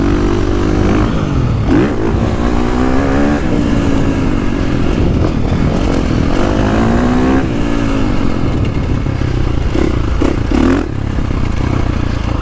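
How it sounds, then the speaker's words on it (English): A KTM 450 Factory Edition dirt bike engine lugs and pulls in third gear, a loud, close four-stroke drone with rising and falling revs and some clatter, running steadily throughout with no talk. "And third will just lug down, just pull so nice."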